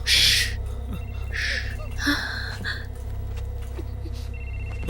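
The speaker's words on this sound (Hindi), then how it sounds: "फोन बज रहा है।" Bright bursts of a high electronic phone ring repeat a few times, fairly loud over a low steady hum, with faint background noise.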